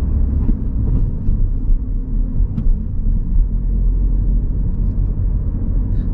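Inside a driving-school car accelerating in third gear, a steady low engine and road rumble drones without a break, loud and close, with no voices.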